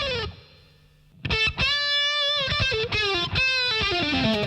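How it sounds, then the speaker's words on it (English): Electric guitar through a Boss DS-1 distortion pedal with cathedral reverb, a few distorted chords and sustained notes ringing out with a washy reverb tail, close and fairly loud. "So you can hear a bit of reverb here."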